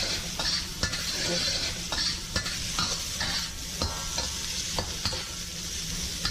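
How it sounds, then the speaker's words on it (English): Garlic and ginger stir-frying in a hot, smoking pan for beef chow fun: a loud continuous sizzle broken by repeated spatula scrapes and clinks against the pan. "So now we're gonna add our garlic and our ginger. Mix that around a little bit."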